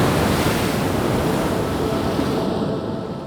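North Sea surf breaks along the Dutch coast in a steady, loud wash of crashing water mixed with gusting wind buffeting the microphone, easing slightly toward the end, with no voices.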